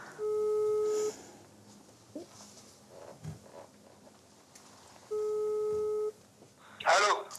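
Telephone ringback tone on an outgoing call, two steady one-second tones about four seconds apart, fairly clear over quiet room noise, with a brief rustle near the end.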